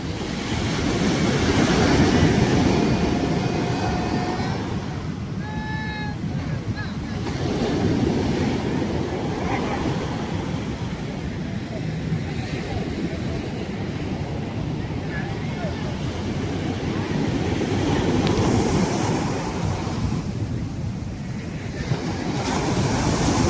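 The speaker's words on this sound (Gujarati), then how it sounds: "હાલ મોજા આવે છે તો પણ બોટો જાય છે મિત્રો" Sea waves surge and wash steadily along the shore as fishing boats head out to sea, with loud wind buffeting the microphone throughout and someone talking over the noise.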